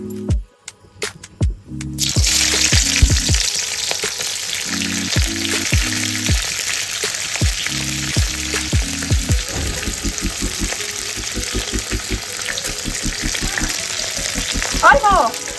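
Baby corn fries in hot oil for chilli baby corn, giving a dense, continuous sizzle and crackle after a few sharp knocks at the start, close and loud, with no talking.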